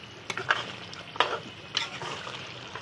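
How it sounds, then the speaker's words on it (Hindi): Beef and bottle gourd being stirred and fried in a pot, with a steady sizzle broken by several scraping stirs of the spoon, close and moderately loud, with no voices. "माशाल्लाह से गोश्त की बुनाई बहुत अच्छे तरीके से करेंगे हम"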